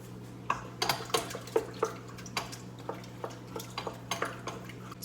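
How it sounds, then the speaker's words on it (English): Water and leaven stirred by hand in a bowl, giving a steady series of soft wet clinks and sloshes in an uneven rhythm, close and quiet over a low kitchen hum. "So I'll go ahead and stir that in"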